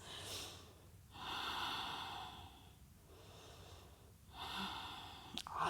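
Deep, controlled breaths during a core-strengthening yoga flow come through close and clear, three long exhales with short pauses between them.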